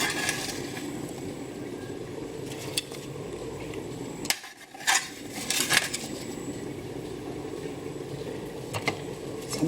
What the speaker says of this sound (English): So I'm placing these in a nice little bamboo bowl.